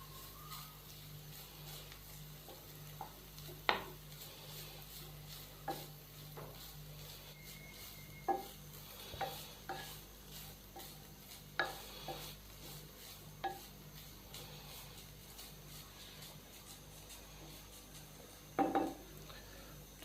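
Shredded boiled chicken stir-fried in a pan for chicken potato croquettes, with scattered scraping clicks of a spoon against the pan over a low, quiet sizzle; no voices.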